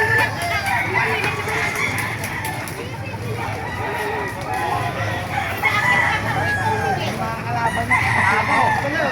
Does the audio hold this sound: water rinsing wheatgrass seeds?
no